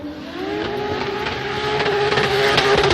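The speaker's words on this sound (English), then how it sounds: "Listen to the exhaust note." A loud, sustained engine howl with a raspy exhaust note, rising in pitch as a drift car is held at high revs during Formula DRIFT qualifying in Orlando.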